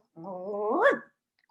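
A voice imitates an old bear's growl while telling a children's Hanukkah story: one drawn-out, strained vocal growl that rises in pitch and cuts off, followed by silence.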